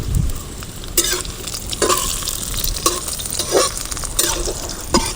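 Dried red chillies, mustard seeds, shallots and curry leaves sizzle steadily in hot coconut oil for a clam curry, with a spoon scraping and stirring the pan in repeated strokes, close and fairly quiet.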